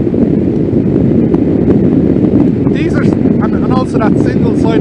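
Honda VFR 750 motorcycle engine heard while riding, a loud, low, steady drone mixed with heavy wind buffeting on the microphone, with a voice speaking over it toward the end.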